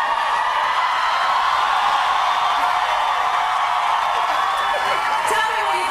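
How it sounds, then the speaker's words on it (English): Studio audience at a live singing contest show applauds and cheers loudly and steadily, a dense unbroken wash of clapping and whoops that drowns out everything else. "There's so much applause, I can't hear what you're saying."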